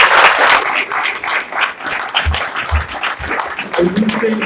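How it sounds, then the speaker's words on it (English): Audience at an IT executive summit applauding its panelists, a dense wash of clapping that swells and holds for several seconds, with a few voices mixed in near the end. "Please, a round of applause for our panelists."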